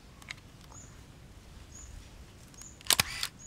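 Shutter of a Canon EOS 3000 film camera firing once near the end, a sharp loud mechanical click-and-whir burst after quiet room hiss.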